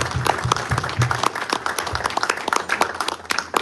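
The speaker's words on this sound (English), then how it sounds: "I would like to ask everybody to give Kim a round of applause and thank you for her input" Applause from an audience at a greyhound racing derby speech, uneven and patchy clapping with distinct hand claps standing out, close by and fairly loud, with a low murmur of voices underneath.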